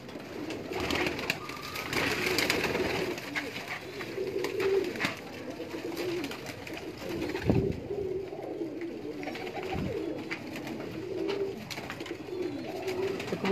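Breeder pigeons at a loft in Delhi Gate, inner Lahore, coo softly in low repeated phrases among scattered flutters and light clatter, nearby and moderately quiet, with no clear talk.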